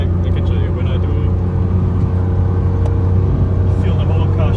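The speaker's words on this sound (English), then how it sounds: "Feel the whole car shake." A BMW E46 M3 shudders as it drives, a loud, constant low engine drone and road rumble filling the cabin from up close, with faint rattles above it and no clear speech.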